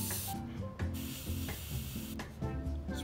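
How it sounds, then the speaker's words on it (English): An airbrush sprays paint at low air pressure onto the road wheels of a 15mm Jagdpanther model tank, giving soft hissing bursts that start and stop in short, close passes. "Spray a nice low air pressure when you're doing fine lines."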